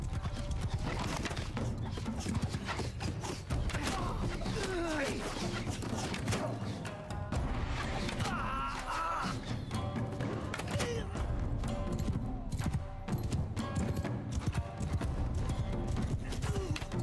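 Horses gallop in a Mount & Blade II: Bannerlord battle, a dense continuous drumming of hooves with whinnies and battle clatter, loud and sustained, mixed under speech.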